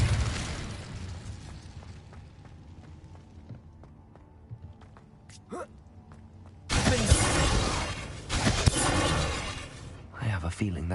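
Spell blasts from the Confringo and Incendio curses in the game Hogwarts Legacy, two loud bursting whooshes erupting after a quiet stretch of ambient music, the second flaring up again near the end.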